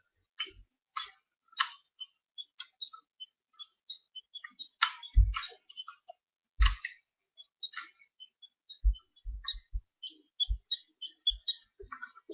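A Power Rangers Wild Force Growl Phone toy plays its sound effect through a weak, tinny speaker held close: sparse clicky ticks and chirps with soft thumps mixed in, quiet and irregular.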